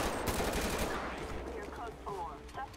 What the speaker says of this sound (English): So who is he shooting at over there?